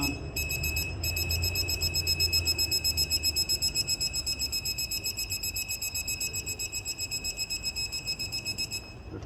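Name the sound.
torque wrench beeping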